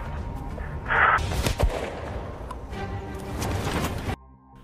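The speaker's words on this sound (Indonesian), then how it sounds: "Baku tembak pun kembali terjadi." Gunfire in a shootout scene from the 2018 Turkish series Wolf: heavy booming shots and blasts, with a sharp crack near the middle and layered rumbling effects, loud and close, ending abruptly.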